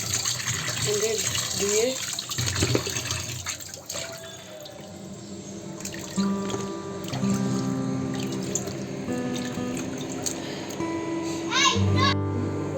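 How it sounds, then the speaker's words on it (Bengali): Pangas fish are rinsed in water at home, with splashing, trickling and sloshing under someone talking and a voice. "এই যে পাঙ্গাস মাছ হচ্ছে ধুয়ে উঠায় ফেলছি"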